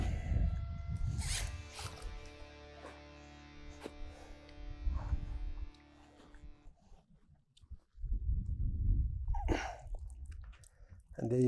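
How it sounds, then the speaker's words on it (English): A zipper is pulled along the sides of a fish retainer sling holding a carp at a lakeside, giving a few short rasping zips close by, with handling noises and brief talk around them. "Zip the sides close."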